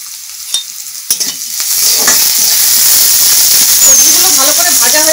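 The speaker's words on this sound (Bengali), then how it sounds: "সবজিগুলো ভালো করে ভাজা হয়ে গেছে," Chopped cauliflower, carrot, capsicum, bay leaves and peas fry in a pan in a village kitchen. A few stirring clanks come first, then a loud, steady sizzle of frying and steam.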